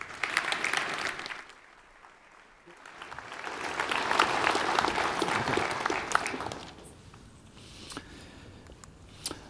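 A conference audience at a security event applauds a speaker, clapping that swells to a dense peak, then fades to scattered claps.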